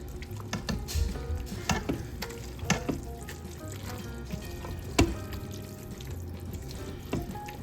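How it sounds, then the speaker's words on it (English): Noodles and spinach stirred around in a pan, a steady frying sizzle broken by repeated scraping and clattering strokes with a few sharper knocks, close and fairly loud. "I'm gonna stir this around."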